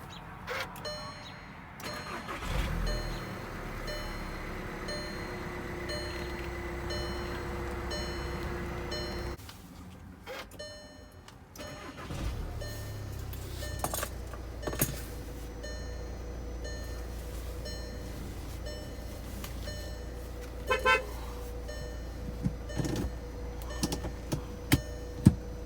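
A 2012 Volkswagen Jetta TDI sport wagon diesel engine cranks and catches, then settles into a steady low idle with chimes and ticks from the dash, a brief lull, then the idle resumes with small clicks.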